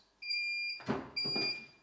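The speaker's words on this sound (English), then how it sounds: "Once the timer has hit 0 and the alarm sounds" Two steady high-pitched electronic beeps from a heat press timer alarm, each held for about half a second, separated by brief noisy bursts; loud and close.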